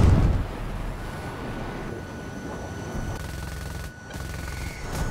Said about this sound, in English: Two bursts of fire.